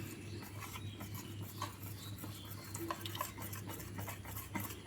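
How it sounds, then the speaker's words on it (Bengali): Semolina batter mixed with sour yogurt, a little sugar and a cup of water, stirred steadily with a spoon in a bowl, giving soft continuous scraping and sloshing with occasional light clinks, nearby and fairly quiet. "ওই কাপে 1 কাপ জল দিয়ে আমি একটা ব্যাটার তৈরি করে নেব।"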